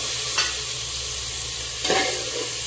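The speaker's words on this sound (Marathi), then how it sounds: "आता हे जे टोमॅटो, गाजर आणि मटार होते ते यामध्ये आपल्याला घालून घ्यायचे" Tomato, carrot and peas sizzle steadily in a hot pan for matar pulao, with two scraping stirs of a spoon through the frying vegetables close up and no voices.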